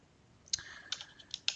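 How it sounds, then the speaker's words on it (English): A computer mouse clicks in logger software, producing a few sharp, light clicks spaced unevenly over a quiet background. "and then you click on Start."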